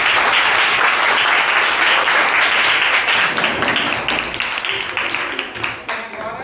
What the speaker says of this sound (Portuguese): palmas para as meninas